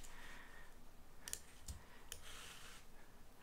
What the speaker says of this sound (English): I was clicking too fast and it perceived it as a double click